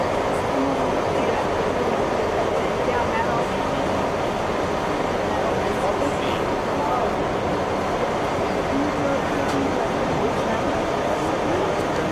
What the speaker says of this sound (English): Departure of train 41 at 6:40 a.m. with final destination of Machu.